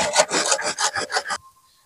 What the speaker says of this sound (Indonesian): Jadi kita potong di bagian sini, kita gergaji.